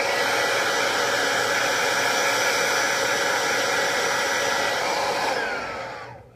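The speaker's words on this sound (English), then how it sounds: "the way that you can get rid of those is by heating it up again" A heat gun blows steadily and loudly while warming a vinyl decal on a motorcycle fairing, a continuous broadband rushing hiss that holds for about six seconds before trailing off.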